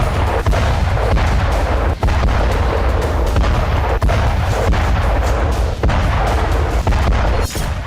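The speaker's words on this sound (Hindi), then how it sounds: "धरती को फाड़कर पाताल में धमाका करने वाला बम।" Heavy bomb blasts rumble and boom continuously and very loud, with repeated deep impacts and sharp cracks layered over a dense roar of explosions, as in Israeli strikes on Gaza.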